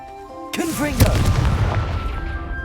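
Confringo fire spell blasting in Hogwarts Legacy: a sharp cast followed by a loud explosive boom with crackling, rumbling tail, close and forceful, with game sounds and a voice around it.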